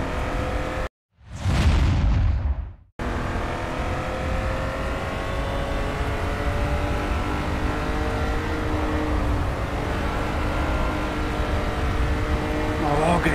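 Race car engine roaring at Silverstone during a championship decider, a loud continuous drone with steady harmonic tones that holds across the clip after a short, dense burst near the start.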